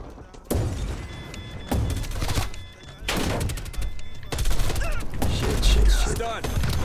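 Video game gunfire erupts in bursts of heavy, rapid shots with booming impacts and crackling echoes during a hard point match, loud and close, with brief lulls between volleys.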